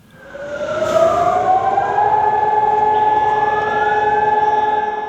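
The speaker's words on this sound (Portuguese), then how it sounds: "ao som das sirenes para recordar o dia do Holocausto" Air raid sirens wail across Israel for Holocaust remembrance, a loud, sustained rising and steady tone that swells in over the first second and then holds for several seconds without voices.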